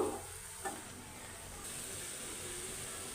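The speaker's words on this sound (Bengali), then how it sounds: "আমি লতিটাকে এখন ভালো করে উল্টিয়ে পাল্টিয়ে মাছের সাথে মিশিয়ে নিব" Taro stolons are turned with shrimp in a pan, giving a continuous close sizzle with one brief utensil clink early on.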